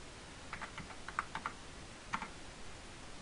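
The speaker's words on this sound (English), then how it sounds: "so we'll type in a card number" Computer keyboard keys tapped in short clustered bursts while a card number is typed, close and fairly quiet over a steady background hiss.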